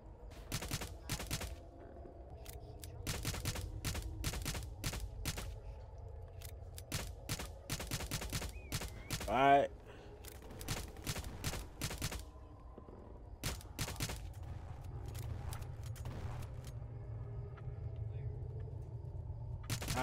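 Bursts of gunfire in the Roblox game Jailbreak, clusters of sharp cracks and rapid volleys scattered across the scene with brief pauses, over a low background hum, while a player occasionally talks.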